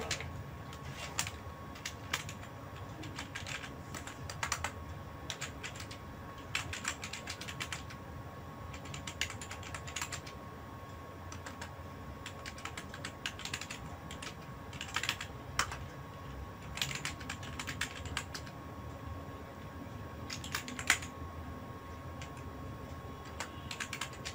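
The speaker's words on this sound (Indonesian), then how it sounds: "coba kita ketik dulu" Quiet, steady typing on a computer keyboard, with irregular bursts of key clicks and short pauses running throughout, close by and free of speech, at an old Athlon XP desktop.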